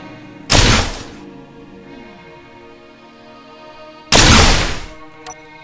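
Missiles launched from the turret of a GLT Shark III superheavy destroyer: two loud, close whooshing bursts a few seconds apart, each roaring briefly before fading, over a low steady mechanical hum.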